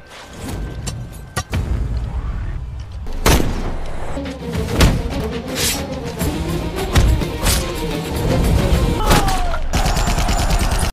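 Gunfire in a war film: bursts of shots and heavy booms hit repeatedly across the scene, loud and close, with sharp impacts, rattling fire and a dense, chaotic battle din throughout.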